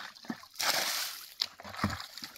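Water splashes and sloshes in bursts as a concrete spring basin is washed out, with a louder splatter in the middle and smaller splashes around it, close by.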